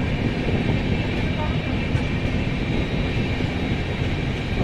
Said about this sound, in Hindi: भाई ट्रेन अपने फुल रफ्तार में आ रही है, 40-50 का रफ्तार हो गया